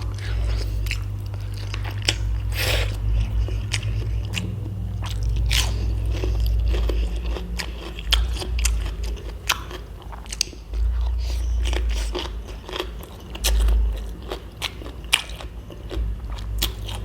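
Dry snacks such as fried silkworm pupae are bitten and chewed up close, with loud repeated crunches and crackles over about seventeen seconds, and a low hum and brief bursts of talk underneath.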